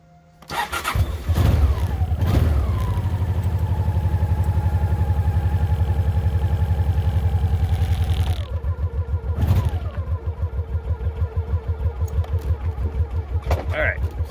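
A 1990 Honda Pacific Coast 800 motorcycle with the choke on cranks and fires up, then settles into a steady close, loud idle, with a blip of throttle and a choppier idle afterward.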